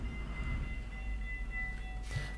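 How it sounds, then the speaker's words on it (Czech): Train passing in the video game American Truck Simulator, a steady low rumble with faint tonal squeals, moderately loud and continuous with no speech. "Odkud jede ten vlak?"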